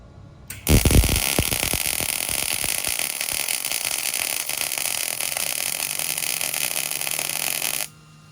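A MIG welder lays a run at wire speed 40: after a sharp strike it holds a loud, steady crackling buzz for about seven seconds, then cuts off abruptly.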